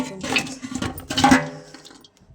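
Water splashes and gurgles into a large metal cooking pot, a short close pour that swells, then thins out to near quiet.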